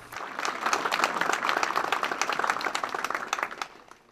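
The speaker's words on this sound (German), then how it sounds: "Die Kameraden quittierten es mit Beifall." A room of volunteer fire brigade members bursts into applause, a dense rush of many hands clapping that holds steady for several seconds before tapering off, close and without speech.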